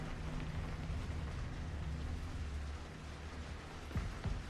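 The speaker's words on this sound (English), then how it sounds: "Nice. Rain." Steady rain hisses softly in the sci-fi horror game Routine, set on the moon, a faint continuous wash with low rumbling underneath and a couple of soft thumps near the end.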